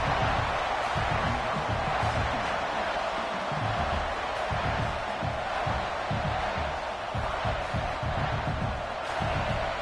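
Football video game stadium crowd noise: a dense, continuous roar from a large crowd trying to keep the opposing offense pinned deep in its own end, steady and loud throughout with no distinct cheers standing out.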